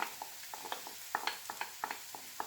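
Garlic sweating with onions in a frying pan over mild heat for a chicken curry: soft, low sizzling with a run of light clicks and scrapes as it is stirred, fairly quiet and steady, with no talking.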